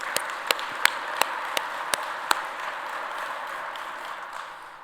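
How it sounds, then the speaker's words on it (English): Light, thinning applause from a transportation conference audience after closing remarks, with a handful of sharp individual claps ringing out early before fading into a soft scattered patter. "please give them a round of applause and thank them for all the work that they did"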